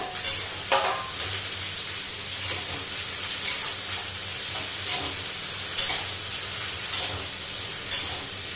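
Barnyard millet mixture sautés in a spoonful of oil in a pan, giving a steady soft sizzle with faint stirring scrapes and a few louder clinks, close and continuous with no talking.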